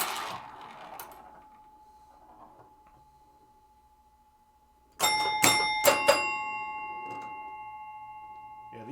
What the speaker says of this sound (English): these bells are really loud